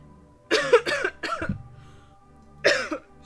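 A person coughs three times in quick succession, pauses, then gives one more close, loud cough, with no talking.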